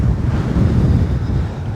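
Strong wind buffets an RV roof, a steady, loud rushing roar that hardly varies across the short stretch, with no voices.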